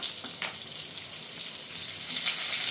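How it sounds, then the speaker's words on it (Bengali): Pointed gourd slices fry in oil in a pan, giving a steady, fairly soft hiss with light crackle that swells slightly toward the end, with a couple of brief stirring knocks. "এখন আমি পটলগুলো ভেজে নিব।"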